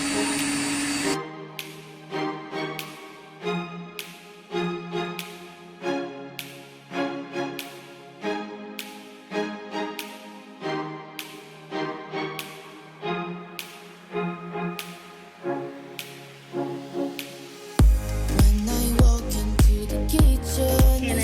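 A whisk beats meringue in a bowl in steady, rapid rhythmic strokes that repeat for about eighteen seconds. A louder, denser mechanical whirr then takes over near the end.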